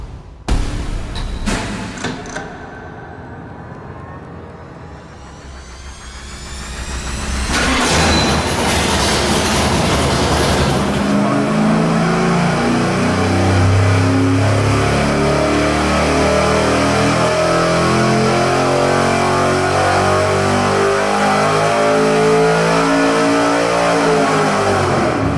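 A V8 engine fitted with a roller cam runs on a dyno, starting with sharp bursts and a rough idle before climbing into a loud, sustained wide-open pull that rises steadily in pitch over about twenty seconds.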